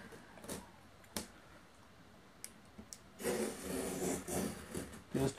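A knife scores a line across plywood to make a knife wall, giving faint isolated clicks at first, then a run of louder rasping scrapes in short strokes near the end, with no talking.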